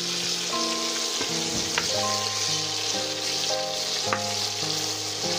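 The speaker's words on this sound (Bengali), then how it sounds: "ভাজতে থাকতে হবে ওটাকে" Chicken pieces with salt and turmeric fry in a wok with a steady, loud sizzle throughout, punctuated by occasional scraping stirs and clinks of a utensil.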